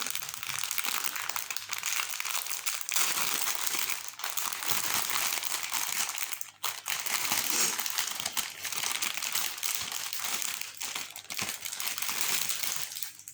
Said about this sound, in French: je vais essayer, tant qu'on y est, d'ouvrir les fils